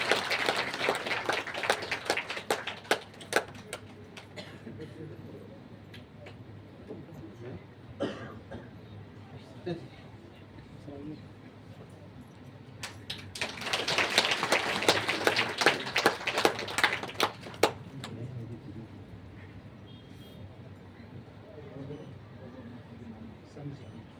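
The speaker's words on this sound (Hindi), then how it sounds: "जोरदार तालियों से निकालेंगे।" An audience claps loudly in two swells of dense applause with a quieter stretch between them, under ongoing talk and amplified speech.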